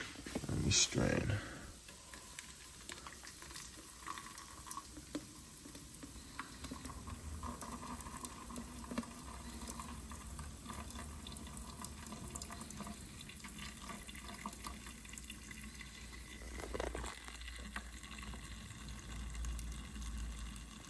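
Juice being strained to separate out the pulp: liquid trickles and splashes in a continuous, fairly quiet wash, with a sharper burst near the start and another later on, and talking at times.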